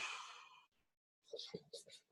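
A person exhales a slow, deep breath in a soft, breathy rush, followed by a short quiet gap and then faint breathy whispering.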